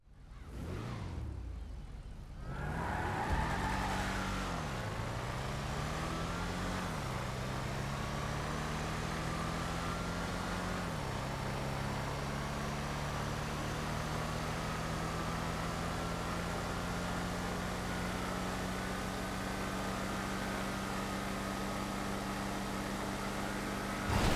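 Cars drag racing in GTA Online, including an electric Obey Omnis e-GT and 4-door muscle cars, a steady loud engine drone that rises and shifts in pitch for the whole stretch, with no talking.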